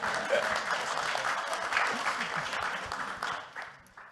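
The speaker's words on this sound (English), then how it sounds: "You can clap." Audience applause at a ReFi Day conference talk in Paris, a dense steady clatter of many hands filling the room, fairly loud and close before tapering off near the end.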